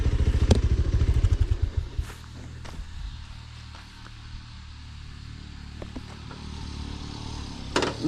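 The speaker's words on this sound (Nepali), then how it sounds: "दाइको बाइकले मजाले तानिदिरहेको छ" A motorcycle engine revs hard in close, rapid pulses for the first two seconds while climbing an off-road hill track on Serai Chuli in Chitwan, then drops to a quieter, steady running hum with scattered clatter.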